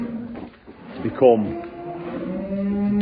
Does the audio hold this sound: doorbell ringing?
no